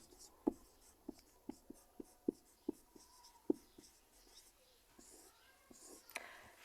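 Handwriting during a maths lesson on determinants, faint pen taps and strokes in a quick irregular series near the microphone, under very soft voice in a quiet room.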